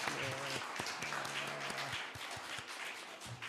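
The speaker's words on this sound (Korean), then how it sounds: "우리 찬양 받으신 주님께 감사와 영광의 박수 올려드리겠습니다." A church congregation at a Christmas Sunday service claps together, producing a steady wash of applause with tonal, sustained sounds underneath.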